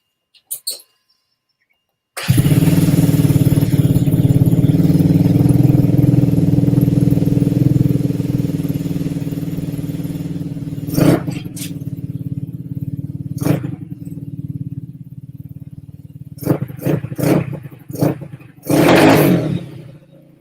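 A motorcycle engine that is lean and starving for fuel, needing a bigger jet, fires up after a short pause and runs at a steady, rough drone that slowly settles, then gets several sharp revs near the end; it is loud and close.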